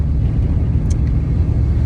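A 1985 Trans Am driving, heard from inside as a loud, steady low engine and road rumble that carries on without a break for the whole short stretch.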